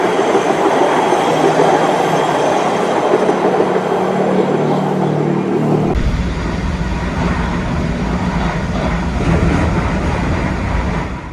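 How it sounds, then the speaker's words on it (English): A hi-rail utility vehicle, a road vehicle running on steel rail wheels, rolls loudly along the track nearby, steady rumbling with metallic wheel noise, the tone shifting partway through as it passes. "high rail utility vehicles built to switch from road tires to steel rail wheels"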